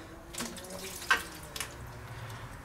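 Fuel runs out of an injector fuel rail during a swap to FIC 105 lb injectors, a faint, soft trickle and splash with a couple of brief drips close by.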